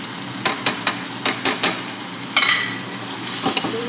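A utensil stirs curry paste through a coconut-milk shrimp and mushroom dish cooking in a pan, giving a series of sharp scraping taps over a steady soft sizzle, close and moderately loud.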